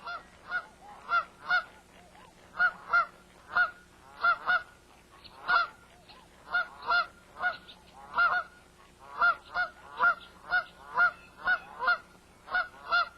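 Dusky Canada geese honking in a steady run of repeated calls, clear and fairly close, with many overlapping honks in uneven pairs and triplets across the whole stretch.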